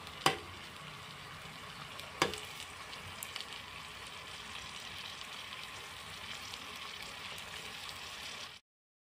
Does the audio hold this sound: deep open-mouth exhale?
no